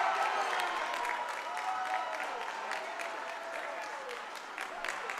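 High school basketball crowd of Liberty fans cheering and clapping after an opponent misses a foul shot, a dense, sustained roar with applause filling a gym, gradually easing off.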